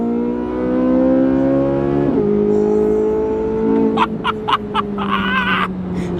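A C8 Corvette in track mode revs hard and accelerates, its engine note climbing steadily, dropping at a gear change and then pulling again, with sharp bursts near the end, close and loud, with no talking.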